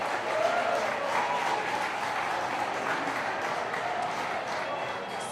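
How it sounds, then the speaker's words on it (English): A crowd at a campaign event gives a round of applause, an even, steady rush of clapping heard at moderate distance that holds throughout with only slight fading near the close. "let's all give them a big round of applause, please"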